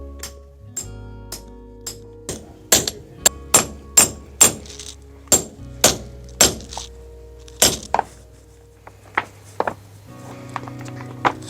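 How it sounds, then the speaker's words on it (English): Heavy mallet blows punch cleat holes through a golf shoe sole, giving a long series of loud, sharp cracks at a steady working pace with brief pauses, some blows doubled, against a low background hum. "we're just going to smack some holes through this now"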